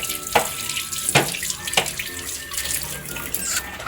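A ladle is washed under a running kitchen tap, steady water flow with a few sharp clinks and knocks of the utensil against the sink, close and moderately loud, with no talk.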